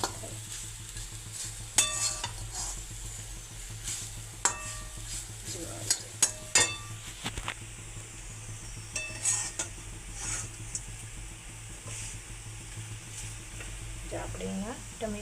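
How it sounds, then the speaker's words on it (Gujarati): Roti pieces are stirred and fried in a pan, a steady quiet sizzle broken by sharp clinks and scrapes of a spoon against metal, close up, with a brief murmur of voice. "અહીંયા આપણા રોટલીના કટકા વઘારે છે."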